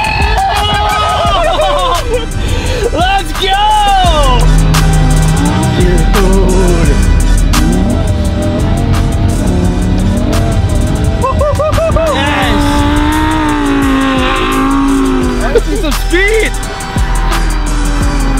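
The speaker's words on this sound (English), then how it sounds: "I'm driving my freaking Lamborghini on the lake." A Lamborghini drives across a frozen lake, its engine loud and close, revving and rising and falling in pitch through gear changes, with excited voices and background music running over it the whole time.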